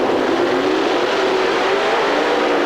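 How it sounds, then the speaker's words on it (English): Nitrous-boosted drag racing semi launching at the 1992 IHRA World Nationals in Norwalk: a loud, dense, steady engine roar that holds unbroken, with no talk. "Good launch for Martin."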